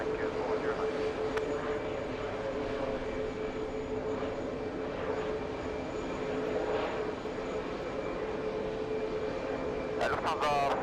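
A WestJet airliner, a Canadian jet, rumbles steadily at an airport, a continuous engine drone with a whining tone held across the whole stretch, moderately loud, with a brief burst of sharper noise near the end.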